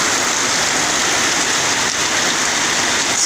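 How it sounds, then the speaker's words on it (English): Heavy evening rain pours down in Ntinda, Kampala, a loud, dense, steady hiss of water drumming on surfaces, continuous and unbroken throughout with no voices. "Rain, much needed."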